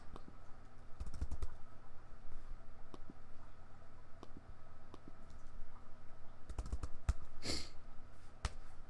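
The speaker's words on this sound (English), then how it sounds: "we just type in window" Typing on a computer keyboard, with scattered soft key clicks and a few quick bursts of taps over a quiet room background.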